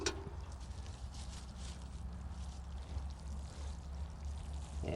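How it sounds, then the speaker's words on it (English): Water poured from a watering can onto garden soil over a buried, still-leafy plant branch being layered outdoors, a steady soft splashing trickle that runs near and continuous for about five seconds with no talk. "And I'll water it in."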